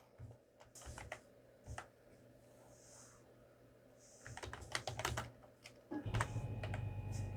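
Typing on a PC computer keyboard while filling in an invoice in Google Sheets: close, quiet bursts of rapid keystrokes separated by short pauses, ending in a denser flurry of clicks.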